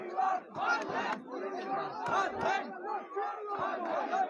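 A large crowd of student protesters surrounding a university administrative building shouts in loud, rhythmic bursts, their chanting and yelling surging and falling close by.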